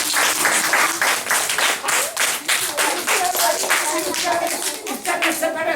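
Children clap together in steady, dense applause, loud and close, with young voices cheering underneath throughout.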